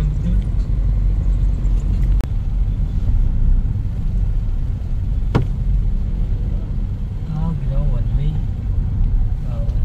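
Road traffic after heavy rain in Tansa, a steady close rumble of car engines with a passing vehicle and brief horn-like tones, with people talking over it.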